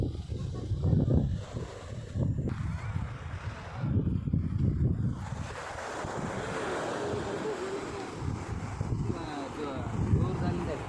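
Sea waves roll onto the shore at Ullal, a continuous surging wash with rhythmic swells and heavy wind buffeting the microphone, while people can be heard talking in the background.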